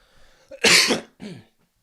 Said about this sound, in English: Sorry for the cough, by the way.